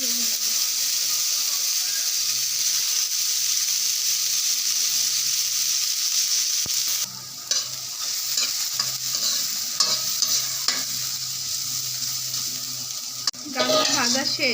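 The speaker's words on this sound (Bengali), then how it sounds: "এবার গাজর ভেজে নেব।" Carrots frying in hot oil, a loud continuous hiss and sizzle with occasional stirring scrapes and clatter of a spatula in the pan, close up.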